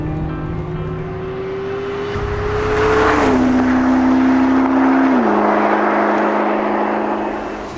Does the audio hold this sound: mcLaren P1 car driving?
yes